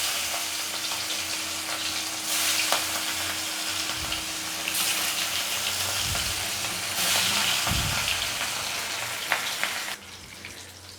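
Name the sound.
rohu fish frying in pan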